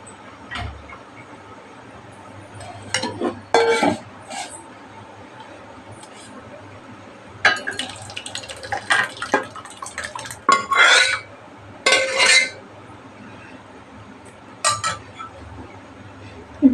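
Ground lentil paste scraped from a grinder jar into another dish, giving clustered clinks and scrapes of spoon on metal in bursts with pauses, close and moderately loud against a low steady hum.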